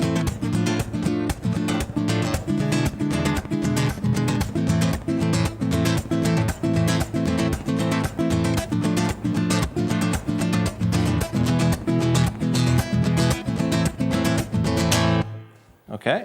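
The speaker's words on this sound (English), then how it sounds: "now let's take a look at a more steady golpe pattern" Acoustic guitar strummed in a steady, driving Spanish-style golpe pattern with percussive slaps on the strings, played solo and fairly loud for about fifteen seconds before stopping.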